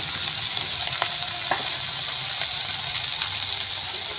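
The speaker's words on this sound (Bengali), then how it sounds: "কাঁকড়াগুলো আমি একটু লাল লাল করে ভেজে ভেজে নেবো।" Crabs fry in a pan of hot oil, a steady loud sizzle that holds for the whole stretch, with a few light clicks of a spatula or the shells shifting. No voices come through.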